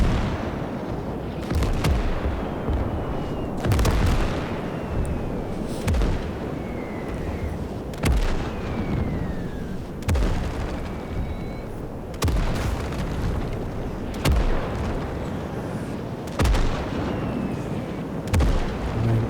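Artillery fire in the RTS game Gates of Hell, set in a Finland campaign, with sharp, loud booms landing roughly every two seconds over a steady rumbling battlefield bed, with some whistling shells in between.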